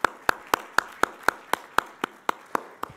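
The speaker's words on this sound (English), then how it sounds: "Can we clap hands for our President," Slow, evenly spaced hand claps at an executive committee meeting, about a dozen sharp strikes in a steady rhythm, clear and fairly close in a quiet room.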